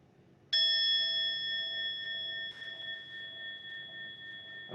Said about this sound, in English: We hear one sound of the bell to end.